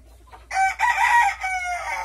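Silkie chickens, a silver partridge hen and a silver rooster kept by an ornamental poultry breeder, give a loud, close, drawn-out call that breaks into a short series of clucks, with no talking.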